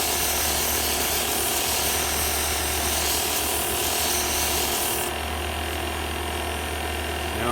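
Sandpaper rubbing against a spinning wood-turned Christmas ornament on a lathe, moving from 100 to 120 grit, gives a steady close scratching hiss over the lathe's constant hum.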